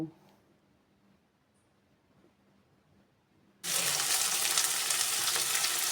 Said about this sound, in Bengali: রসুন আমি থেতো করে দিয়েছি আর কিছুটা গোটাই দিয়ে দিয়েছি এবার আমি একটু ভেজে নেব